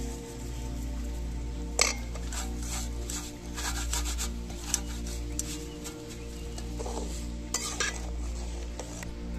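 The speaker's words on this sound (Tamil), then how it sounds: "தண்ணி நல்லா கொதிக்குது. ரவை போட போகிறோம்." Semolina is stirred into boiling water in a cooking pot, giving continuous scraping and rubbing from the utensil, with occasional sharper clinks against the pot over a low steady hum.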